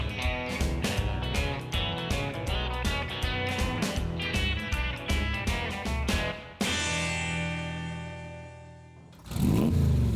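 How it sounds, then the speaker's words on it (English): A classic Corvette Stingray over 40 years old pulling away from a winery, its engine revving hard in repeated loud bursts, then a sustained fading drone before a sudden louder roar at the end. "It's not every day you see a car over 40 years old rolling out of a winery"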